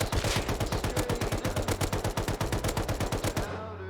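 An LR-300 assault rifle in the Rust video game fires one long burst of rapid, evenly spaced full-auto shots that ends with a short fading echo tail, with no talk.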